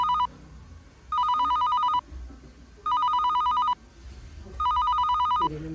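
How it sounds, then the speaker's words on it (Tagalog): An outgoing phone call rings back with three electronic ringing bursts of about a second each, separated by pauses, fairly quiet, with faint background voices between the rings. "Tawagan pa kayo isa pa."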